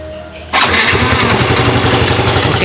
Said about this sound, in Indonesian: saya hidupkan kunci kontak on. Oke, kita starter, tunggu ya.